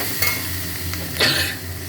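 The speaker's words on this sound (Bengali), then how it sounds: "এটা খুব ভালো করে দেখুন মশলা কষা হয়ে গেছে" Spice paste (masala) stirred and fried in oil until the oil separates, a close steady sizzle with scraping stirs of a spoon against the pan, one stronger stroke near the end, no talk.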